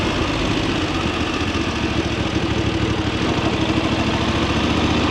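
VOGE DSX 900 motorcycle engine running at slow speed, a steady, close, low rumbling drone with a fine pulsing beat that holds even throughout, with no voices.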